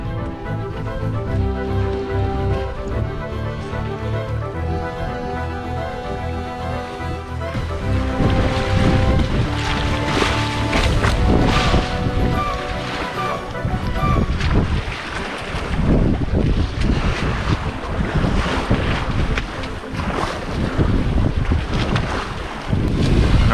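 A sailboat heads out into a bay off the west coast of Ireland, with loud, steady wind buffeting the microphone over the rush of water and waves against the hull, alone and unbroken throughout.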